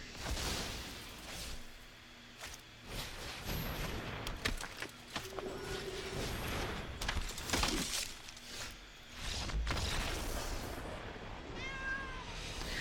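A pet cat meows a few times near the end, short rising calls over quiet game sound effects with thuds and whooshes.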